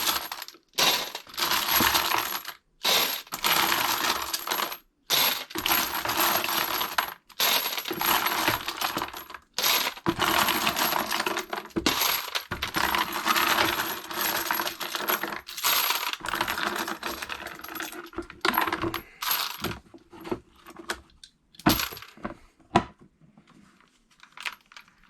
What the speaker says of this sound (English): I'll dump it out of here. Put it into the basket for the sonic cleaner.